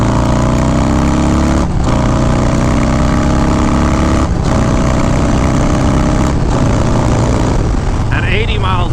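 A 2019 Harley-Davidson Street Bob motorcycle with a Stage 4 engine cruises at speed, its loud, close engine roaring continuously with brief dips at gear changes and climbing pitch between them. Wind noise sits under the engine, and a rider's voice comes in near the end.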